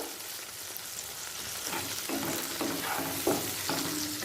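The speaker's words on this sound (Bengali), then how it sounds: "তেজপাতা ফোড়ন থেকে সুগন্ধ বেরোতে শুরু করে দিয়েছে এই সময় দিয়ে দিচ্ছি কেটে রাখা টমেটো কাঁচা লঙ্কা" Chopped tomatoes and green chillies dropped into hot oil with bay leaf and whole cumin, a steady close sizzle with several short bursts of stirring and spluttering, no voices.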